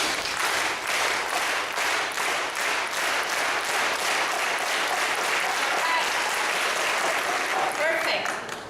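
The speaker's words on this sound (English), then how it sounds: "let's try to clap all together at the same time in" An audience claps together in one steady shared rhythm, a dense, loud wall of hands beating in regular pulses for several seconds before easing off at the end.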